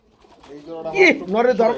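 A pigeon coos close by, a short throaty rising and falling call heard on its own.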